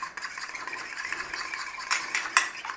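A beaten egg is mixed into a creamy Parmesan and bacon lasagna filling with a utensil, giving soft, wet stirring and scraping sounds with faint clinks against the bowl, close and quiet.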